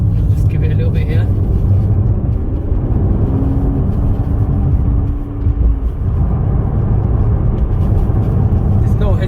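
An Aston Martin DB11 engine hums and gently rises under light throttle on an open road, a steady low drone from inside the car with a brief dip partway through, loud and continuous.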